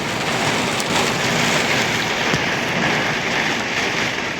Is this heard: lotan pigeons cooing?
no